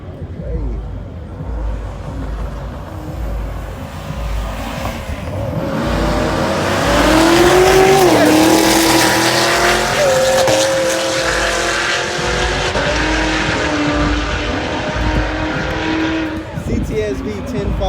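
Drag race cars, including a Nissan GTR, accelerate hard down the strip, a loud engine roar rising and holding as the revs climb, with crowd noise and voices around it.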